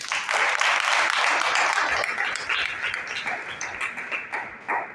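Enthusiastic applause from a college audience of students and teachers at a Hindi Diwas celebration, loud and dense at first, then thinning into scattered claps.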